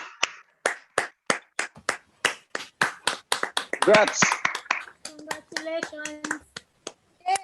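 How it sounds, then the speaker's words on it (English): Audience at a Toastmasters-style club meeting clapping in an irregular, close burst of applause for a newly elected treasurer, with a brief spoken congratulation over the clapping. "Let's give him a round of applause."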